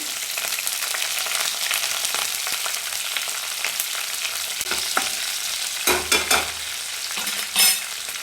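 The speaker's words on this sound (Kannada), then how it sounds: "ಎಣ್ಣೆ ಕಾದಿದೆ ಸಾಸಿವೆ ಹಾಕ್ತಿದ್ದೀನಿ" Mustard seeds hiss and sizzle steadily in hot oil, up close, with a few crackles, pops and stirring scrapes near the end.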